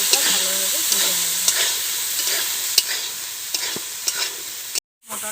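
Peas sizzling steadily in hot oil in a wok with turmeric, with repeated scraping stirs and spatula knocks over a continuous frying hiss, close and alone, briefly cut off near the end.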